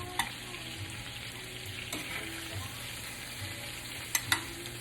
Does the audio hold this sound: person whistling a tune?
no